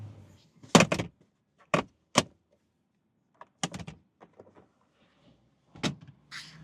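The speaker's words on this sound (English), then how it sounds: "I do want to show you guys how easy and how quickly you can open and close the roof." A 2024 Mazda MX-5 GS-P soft top being opened and closed by hand, heard as a few sharp latch clicks and thumps of fabric and frame with quiet gaps between them, close by and with no talk.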